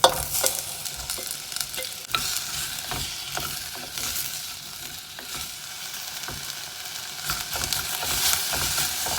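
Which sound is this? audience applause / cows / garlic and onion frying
garlic and onion frying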